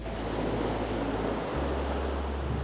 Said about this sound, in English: It's blowing a big gale from the west.